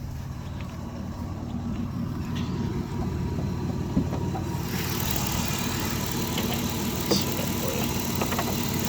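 A 1997 Dodge Caravan LE with a 3.3 engine runs steadily, giving a constant low idling rumble with a faint hiss and occasional small ticks, heard close and without talking.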